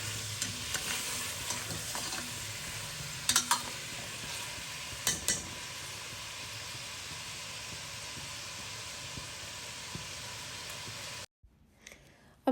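Mutton or goat meat with garam masala sizzles loudly in a hot pot for palak gosht, a constant frying hiss with occasional scrapes of stirring, then the sound cuts away near the end.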